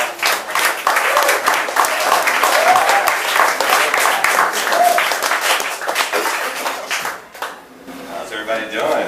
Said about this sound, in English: So let's give it up for Scott